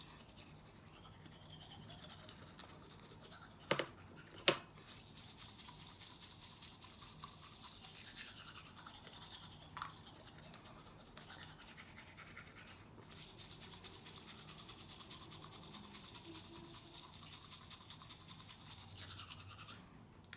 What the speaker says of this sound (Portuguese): Você vai pegar a sua escova de dente, vai pegar, ó, peguei essa misturinha e vai escovar